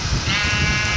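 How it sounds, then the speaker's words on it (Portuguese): Sheep bleating in the survival mode of the video game Minecraft, a short, steady, fairly loud call filling the whole second with no talk. "Ovelha capturada, velho."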